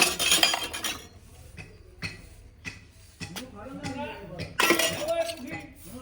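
Utensils being scrubbed and washed by hand, with scattered clinks and clatters of metal dishes coming in bursts, close by, while people talk nearby.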